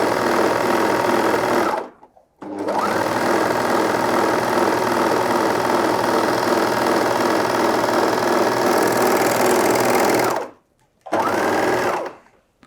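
A Juki MO-2000QVP overlocker sews a fluted rolled hem, a loud, close, steady mechanical whirr that runs continuously, cuts out briefly near two seconds and again near ten, then restarts for a short final burst.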